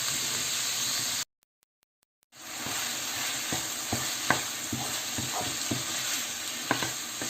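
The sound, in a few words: ground meat frying in pan for spaghetti bolognese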